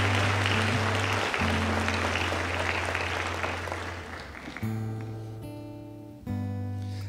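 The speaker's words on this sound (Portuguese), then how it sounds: "Vamos aplaudir ao Senhor pela vida dos nossos irmãos." Church congregation applauding during a service, a dense clapping wash over sustained organ or keyboard tones that fades, then the held chords shift and swell again.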